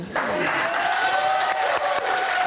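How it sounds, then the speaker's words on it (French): A late-night talk show studio audience applauds a guest with a steady, full wash of clapping. A faint tonal layer rings beneath it. "applaudit notre invité, Dan."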